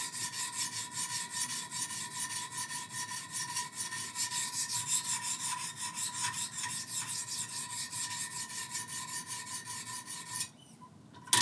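A knife blade is stroked steadily on a Wicked Edge sharpening stone to raise a burr, giving a close, continuous rhythmic rasping scrape that stops just before the end, with no talking.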